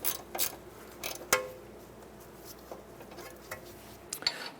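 A ratchet snugs down the bolt on a brake flex hose bracket during a strut and spring swap on a 2008–2012 Honda Accord, heard as a few faint, scattered metallic clicks and clacks with quiet pauses between them.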